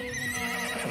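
A foal in the video game Star Stable Online gives a short, clear whinny, heard alone with no talking.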